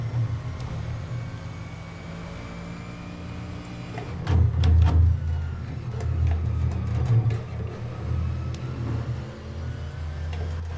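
A Corvette race car engine in the rFactor 2 sim on the Nordschleife drones with a low, steady rumble that swells as it revs up mid-lap and then holds, heard alone without talk.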